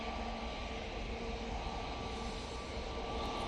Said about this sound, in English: So Lufthansa City going off to Munich now. Using an A320neo.